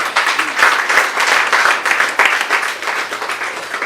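A church congregation bursts into sustained, lively applause, dense clapping from many hands continuing for several seconds at close range.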